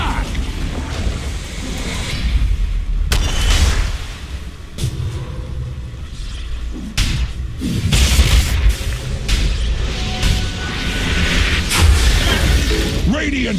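Dota 2 tower destruction plays as a loud, continuous rumble of booms, crashes and bursts, with several sharp impacts through a dense battle mix.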